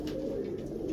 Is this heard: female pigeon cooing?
yes